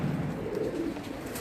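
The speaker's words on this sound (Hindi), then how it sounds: "कबूतरी हमारी 8:02 पे रात को बैठी थी" A female pigeon coos softly on a rooftop at night, a low, throaty cooing in a short burst with no voices.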